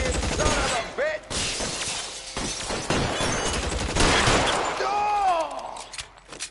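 Bursts of gunfire from a shootout in L.A. Noire, with sharp cracks and a shattering clatter in a sustained, loud exchange. Shouted voices come through above the shooting.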